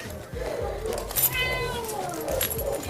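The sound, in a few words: cats meowing at an animal shelter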